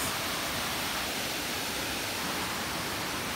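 Tausuban Falls pours in a steady, dense rushing roar that fills the whole clip evenly, loud and unbroken, with no voices.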